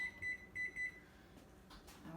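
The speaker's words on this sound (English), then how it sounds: "to set my timer so I don't forget" A kitchen timer being set while Thanksgiving dishes go into the oven, giving a few quick electronic beeps in short clusters, fairly faint against room noise.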